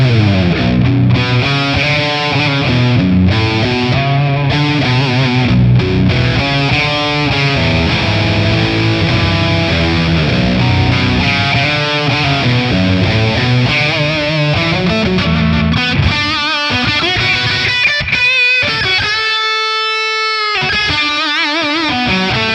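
High-gain electric guitar played through a Marshall JCM 2000 amp capture with plate reverb, loud and continuous with dense distorted riffing and chords, ending in sustained notes that ring out with a reverb tail and brief gaps.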